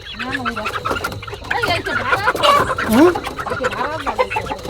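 Chickens cluck and squawk close by in a busy, overlapping chorus in a Sundarbans village, with people talking underneath.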